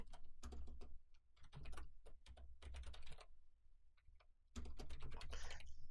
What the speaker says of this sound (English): So if I type my first and last name and my email